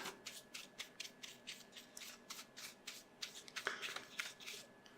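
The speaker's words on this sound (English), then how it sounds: "just on a scrap piece of paper with a fine brush we can get rid of those." Fine brush sweeping small bits of broken LCD glass onto scrap paper during a tablet digitizer repair, a soft rhythmic series of close, faint brushing swishes with light scratchy grit.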